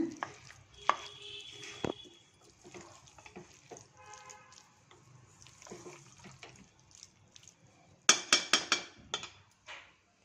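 A spoon stirs cooked vegetables in an opened pressure cooker, giving scattered soft scrapes and then a loud burst of rapid clattering strokes near the end.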